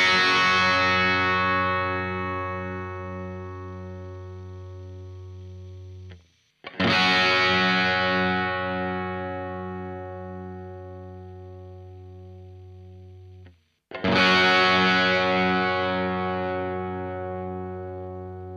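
Electric guitar played through a real Marshall JCM 800 amplifier, three loud distorted chords each struck and left to ring and slowly decay for about six seconds, with brief silent gaps between them and no talking.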